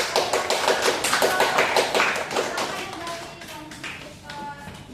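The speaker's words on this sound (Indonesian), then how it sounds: "Beri tepuk tangan dulu" Classroom applause from students during a microteaching economics lesson, a burst of quick, close hand claps that thins out and fades toward the end, with some talk underneath.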